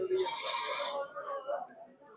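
Goats bleat at a goat market in Longowal, Punjab. One close, drawn-out wavering bleat is followed by a shorter second call, with faint market voices underneath.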